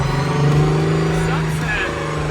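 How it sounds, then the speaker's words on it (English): A tour bus engine hums and rumbles as the bus pulls away on the salt flats, a loud steady drone with a rising pitch, heard under people talking nearby. "Their tour bus has just pulled off."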